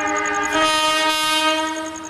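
Railway locomotive passing on the tracks, a loud, close, steady tonal horn-like drone with faint rhythmic clatter underneath, heard alone.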